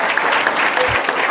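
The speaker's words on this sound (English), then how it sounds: "give a hand of applause for Lisa and Ladies Aid" Guests at a farewell reception for a pastor applaud, a brief, continuous patter of many hands clapping at moderate loudness, with a faint voice mixed in.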